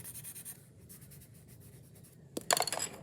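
Pencil scratching across sketchbook paper in short strokes, soft and close, with a brief pause and then a quicker burst of scribbled marks near the end.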